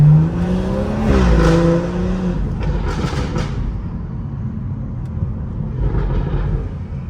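A modified BMW 440i driven on the road: an engine rev swells and drops under a constant road roar, with a few short crackling pops and bangs from the exhaust between.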